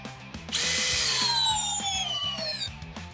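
An older Skil compact hammer drill in drill mode at speed 2 spins up and drills steadily at close range, its whine sliding slightly lower under load before winding down.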